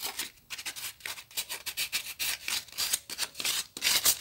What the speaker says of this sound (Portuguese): agora eu vou lixar, então, com a lixa fininha aqui